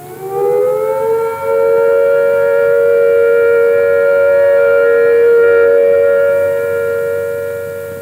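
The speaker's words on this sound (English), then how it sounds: "When the all clear sounds," A civil defence all-clear siren, part of a 1976 nuclear survival public information broadcast, sounds as one loud, steady, unbroken wail. It swells up in the first second, holds its pitch for about seven seconds, then begins to wind down.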